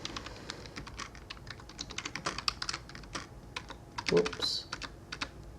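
Fingers tap quickly on a keyboard in a steady run of close, light clicks that continues throughout. A voice briefly speaks partway through.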